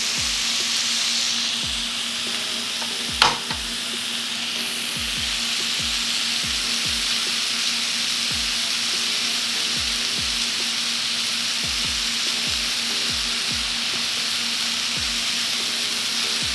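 Crawfish and meat for a Philly-style sandwich frying and browning in a hot pan, a steady loud sizzle with a single brief clatter near the start and no talk.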